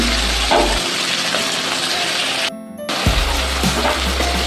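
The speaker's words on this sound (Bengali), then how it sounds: "তাহলে পেঁয়াজ কুচিটা ভেজে নিই।" Chopped onions frying in a pan, a steady loud sizzle that runs almost throughout, briefly cut off and then resuming.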